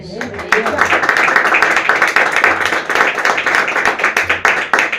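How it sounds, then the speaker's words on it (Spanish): A church congregation applauds during a sermon, with a sustained burst of many hands clapping close by and a voice speaking over it. "Denle un aplauso a Jesús"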